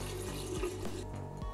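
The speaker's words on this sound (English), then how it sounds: "and to fill in the rinsing water" Rinsing water pours into a 2020 Filmomat fully automatic film processing machine: a brief, steady splashing fill with a low mechanical hum underneath, quiet overall.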